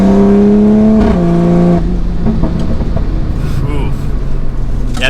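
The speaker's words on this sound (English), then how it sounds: "the acceleration in the car is just nuts to drive" A 600 whp Street Hunter wide-body Toyota Supra pulls hard with a loud, droning engine note that drops in pitch, then settles into a broad, steady roar, with people talking over it.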